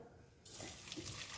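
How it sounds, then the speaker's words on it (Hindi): Chenna (fresh cheese) curds and whey poured through a clean cotton cloth set in a strainer over a bowl during home rasgulla making; a steady splashing pour of liquid starts partway in and continues, with no talk. "छेना को बड़े आराम से छान लेंगे।"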